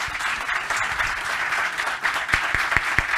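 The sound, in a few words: audience applause at a conference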